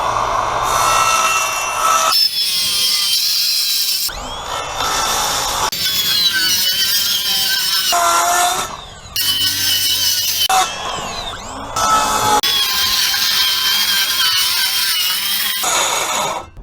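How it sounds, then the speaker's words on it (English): A power saw cuts through wood for patching a cracked basketball backboard, loud sustained buzzing passes broken by short pauses, with no talk. "so we got the wood all cut out"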